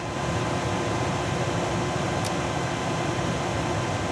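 The HVAC blower fan of a 1996–98 Chevrolet C/K pickup runs in the cab, giving off a steady, even rush of airflow at constant speed, with no talking.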